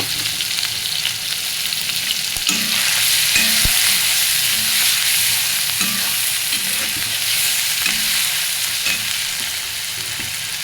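Onions frying in hot oil in a pan, a loud steady sizzle running throughout, close by, with occasional scrapes and knocks of stirring.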